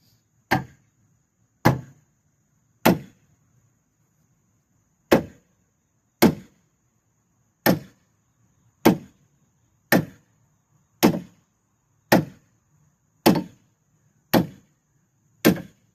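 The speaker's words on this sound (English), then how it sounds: "Well, I decided the bigger hammer was probably the way to go." Heavy hammer blows striking a vehicle trailer hitch to knock it loose, a steady series of about thirteen sharp metallic impacts spaced roughly a second apart, close and loud with no talking.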